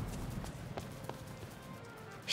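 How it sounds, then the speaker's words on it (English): Quick soft footsteps approaching in Disney Dreamlight Valley, a run of light taps with a brighter burst at the end, heard alone. "you're kind of spooky when all we hear is your footsteps coming up behind us"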